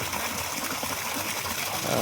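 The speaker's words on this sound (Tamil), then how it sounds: "தண்ணி நல்லாவே வந்துட்டுருக்கு" Water gushes steadily from a borewell pipe, a constant broad hiss and splash, close and unbroken throughout.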